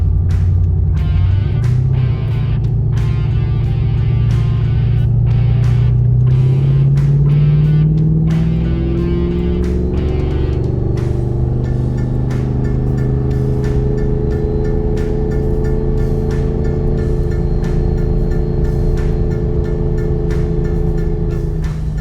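A 2008 Pontiac G8 engine drops a gear climbing a hill, its loud, close exhaust note rising in pitch and then holding a steady, strong drone for a long stretch.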